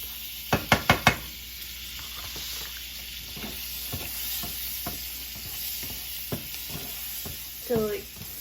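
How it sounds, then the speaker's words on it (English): Garlic sizzles in a pan with a steady, close frying hiss, opened by a few quick knocks of a utensil and followed by scattered stirring taps and scrapes. "we're going to add the garlic and cook it for about a minute"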